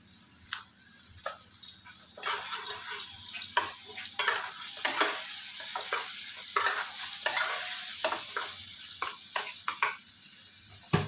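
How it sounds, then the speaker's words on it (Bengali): Paneer sizzles steadily in a pan with tomato ketchup while a spatula stirs and scrapes, making frequent sharp clicks throughout. "হালকা ভাজা ভাজা হয়ে আসলে এর মধ্যে আমি টমেটো কেচাপ অল্প দিয়ে দিয়েছি"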